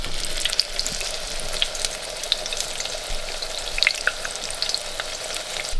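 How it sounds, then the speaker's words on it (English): Steady crackling sizzle of egg-battered chicken frying in a pan in an off-grid cabin, with scattered pops and spatters, close up and continuous with no talking. "I'm not much for frying stuff"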